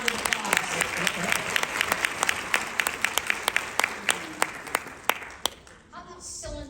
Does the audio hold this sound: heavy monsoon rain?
no